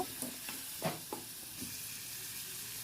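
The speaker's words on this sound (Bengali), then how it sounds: "দুটো আলু দিয়ে আমি একটু আলুগুলো ভেজে নিচ্ছি পেঁয়াজ রসুনের সাথে" Potatoes frying with onion and garlic in a hot pan give a steady, close hiss of sizzling oil, broken by a few light clicks of a spoon stirring early on, then continuous frying alone.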